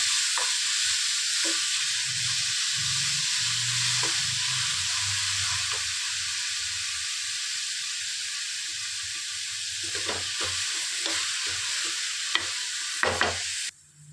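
Food is sautéed in a frying pan with a steady close sizzle, while a spoon scrapes and stirs through it in irregular knocks that grow busier toward the end.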